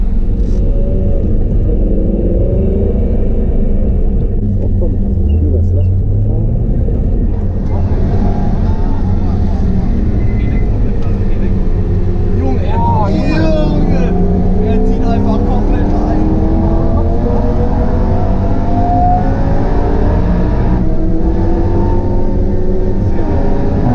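A car driving a Nürburgring Nordschleife tourist lap, with a loud, steady engine rumble and road roar throughout, rising tone sweeps as it accelerates and shifts, recorded from inside.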